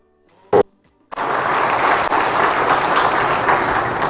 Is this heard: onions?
no